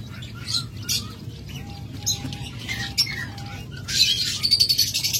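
Pet birds such as lovebirds, cockatiels and budgerigars chirp from a breeding box, a scatter of short high tweets and calls over a low steady room hum, with a brighter burst of chatter near the end.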